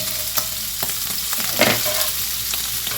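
Sausage browning in a pan for pizza soup, a loud continuous sizzle close by with a few sharp spatula scrapes and clatters against the pan.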